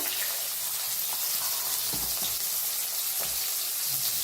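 Cumin seeds and finely chopped onion frying in a hot pan, giving a steady hiss and sizzle with a few soft thuds of stirring.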